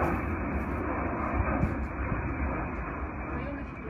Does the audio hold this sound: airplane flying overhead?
yes